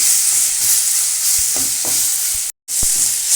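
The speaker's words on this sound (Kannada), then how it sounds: "ಇದನ್ನು ಸ್ವಲ್ಪ ಎರಡರಿಂದ ಮೂರು ನಿಮಿಷ ಫ್ರೈ ಮಾಡಿ" Grated raw mango frying in a pan for mango rice, a loud steady sizzle with a few stirring taps and scrapes, briefly cutting out near the end.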